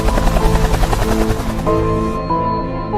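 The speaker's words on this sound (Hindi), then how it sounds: "ये तो एयरफोर्स का हेलीकॉप्टर लग रहा है" An Air Force helicopter's rotor thumps rhythmically and loudly, with a steady engine whine, close overhead.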